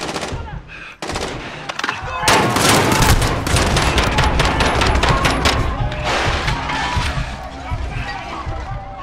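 Dense automatic gunfire roars almost nonstop in Call of Duty Modern Warfare, with loud overlapping bursts and impacts during an embassy mission.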